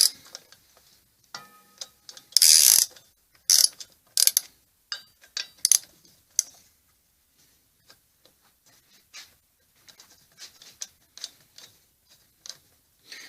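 Bolts being loosened with a ratchet on a Kawasaki Z1000 J2 streetfighter motorcycle part in a garage workshop, with quick clicking ratchet bursts and sharp metallic clanks, then sparse lighter ticks and long quiet gaps.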